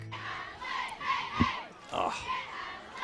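At halftime of a Pop Warner youth football game at a stadium, young cheerleaders on the near sideline chant in unison, their rhythmic shouted cheers rising and falling over crowd noise.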